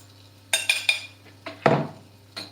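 A spoon clinks and scrapes inside a bowl while mixing a marinade for fish, making a handful of sharp, close metallic taps in irregular bursts with quiet gaps between them.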